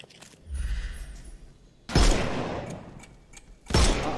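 Gunfire in the video game Sherlock Holmes Chapter One: three loud, booming shots spaced about two seconds apart, each with a decaying echo.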